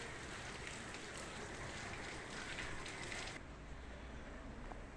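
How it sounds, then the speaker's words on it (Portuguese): Steady rain falling over a street near Jatiúca beach in Maceió on a morning of thunder and lightning, a dense even hiss that thins slightly toward the end, with no voices. "Amanheceu hoje chovendo, trovejando e relampeando."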